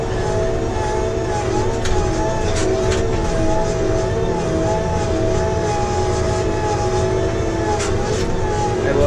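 Tigercat 724G wheeled feller buncher running at a logging site, a loud, steady diesel drone with a sustained whining tone heard from close up, broken by faint clanks.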